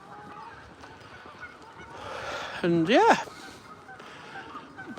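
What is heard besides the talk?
geese honking in a town park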